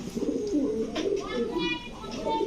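A female pigeon coos nearby in soft, throaty, rolling rumbles that repeat steadily over a couple of seconds, with faint chirps in the background.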